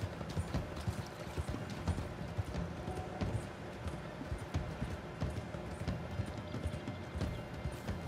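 Horse hooves clip-clop in a steady walking rhythm throughout in Red Dead Redemption 2, with faint background sounds and no talk.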